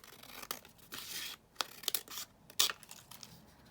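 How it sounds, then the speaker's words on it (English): Several short, crisp snips and rustles of scissors trimming paper for an autumn junk journal, arriving in quick bursts with brief pauses between them, close by. "I'm just going to snip that down here just in a millimetre"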